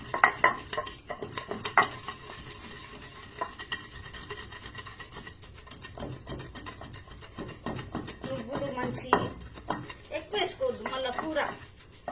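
Cumin and black peppercorns pounded into powder for a radish curry, a run of sharp, irregular knocks and clinks of a pestle striking a mortar, moderately close and loudest toward the end, with faint background voices.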